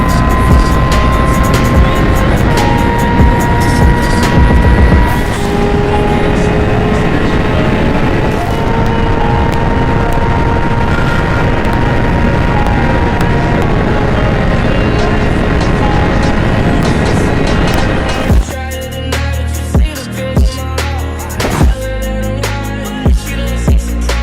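A motorbike is revved hard and continuously, a loud, close engine roar that holds for about eighteen seconds before cutting to a lower, choppier idle with short bursts.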